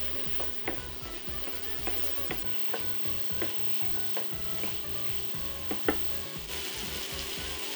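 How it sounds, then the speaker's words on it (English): White bean curry with tomatoes, curry leaves and potatoes being stirred in a pot, a steady quiet sizzle broken by repeated rhythmic scrapes and knocks of a spoon, close up. "Give this a nice stir."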